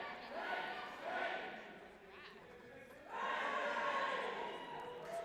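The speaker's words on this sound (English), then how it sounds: "Final cheer there." A crowd at a mixed netball tri-series match between BC and the British Army gives a final cheer, a broad roar that dips briefly then swells louder and sustained, with voices mixed through the noise.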